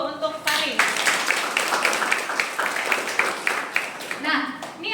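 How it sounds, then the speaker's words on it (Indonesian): Classroom audience clapping for a student during a university community-empowerment lecture, a dense burst of hand claps lasting several seconds with a voice briefly heard over it at the end. "Beri aplaus dulu untuk Farid."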